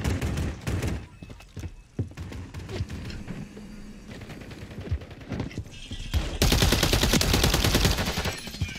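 Video game gunfire, rapid close shots and automatic bursts cracking in uneven clusters, building into a loud sustained volley toward the end over background game noise.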